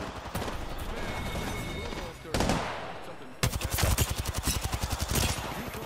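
Rapid automatic gunfire in an Apex Legends match: a burst, a short pause, then a long steady run of evenly spaced loud shots close by, with game noise underneath.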